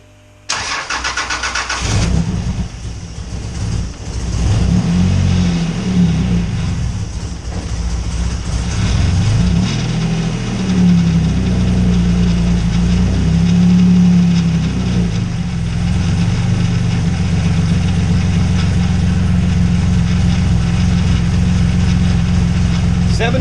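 A Project Frankaru build engine cranks, catches and settles into a loud, steady idle with uneven low-frequency pulsing and occasional surges, continuing close and unbroken for the whole stretch.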